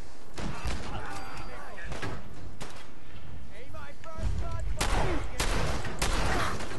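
Gunfire rattles through a Fallout 4 firefight in sharp, irregular bursts of shots and heavy thuds, mixed with speech and game sounds at moderate loudness.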